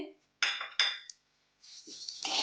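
Sesame seeds land in a hot kadhai in short rattling bursts of clinks and scrapes against the metal, with quiet gaps between them and a final longer rustling scatter.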